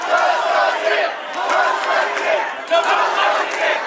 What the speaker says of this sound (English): Hold my beer chant ringing out through the crowd here as Hanson looks like he's wanting this match